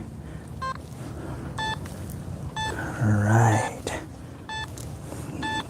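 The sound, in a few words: metal detector signal over rebar in concrete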